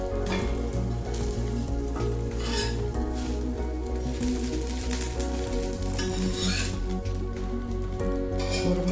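Ragi dosa batter crisping on a hot pan gives a steady, close sizzle with a continuous frying hiss throughout and a few faint clinks of utensils, with no talking.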